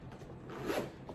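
A zipper on the side pocket of an EDC bag is pulled in a single close, quick rasping stroke that swells and then fades.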